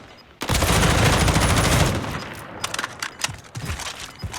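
Rapid automatic gunfire in a Call of Duty match at a 2020 Call of Duty League esports event, a loud continuous burst followed by scattered, fainter shots.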